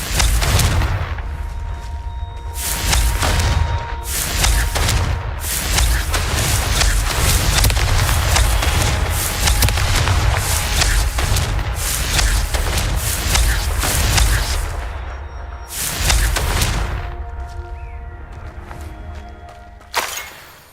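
Heavy, repeated explosive blasts from the Confringo spell in Hogwarts Legacy boom loudly and almost continuously, easing toward the end before a final sharp hit.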